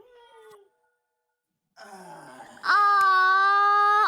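A pet cat gives a few drawn-out, wailing meows, a short cry first, then after a pause a rising call that swells into a loud sustained moan close by.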